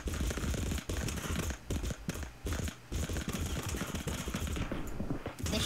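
Rapid game gunfire from trainee soldiers fighting a zombie horde in Totally Accurate Battle Simulator, a loud, dense crackle of overlapping shots that runs almost without pause, broken only by a few short gaps.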